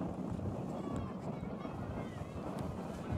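Gusty wind buffets the microphone at an outdoor women's ultimate frisbee match, a loud, continuous rushing roar that surges and eases, with faint voices underneath.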